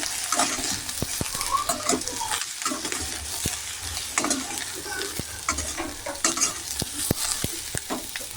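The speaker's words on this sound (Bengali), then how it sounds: "এবার চিচিঙ্গাগুলো ভালো করে নেড়ে ছেড়ে নেব।" Snake gourd frying in oil with a little salt, turmeric and sugar, stirred steadily in a pan, giving a continuous close sizzle broken by repeated sharp scrapes and clicks of the spatula.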